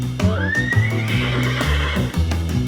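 A horse whinnies loudly, a long rising then falling neigh, with steady low rumbling and thuds underneath.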